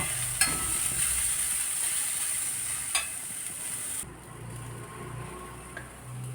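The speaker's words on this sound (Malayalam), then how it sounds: "ഇനി ബ്രൗൺ കളറാവണ വരെ വറുക്കണം" A steady, loud sizzle of spices frying in a hot pan until browning, for a prawn curry, with a couple of faint clicks of stirring.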